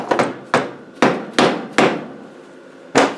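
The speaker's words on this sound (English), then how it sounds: "Just give it a bit of tippity tap." A hammer taps a part down into a steering box during assembly, giving six sharp, close knocks at irregular intervals, each ringing briefly before fading.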